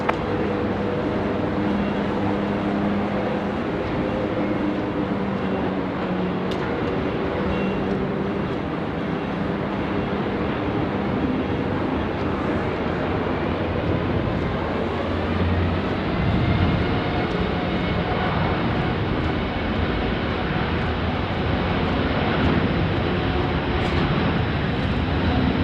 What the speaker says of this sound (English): Air Callan 141 Sierra, runway 16 right, clear for takeoff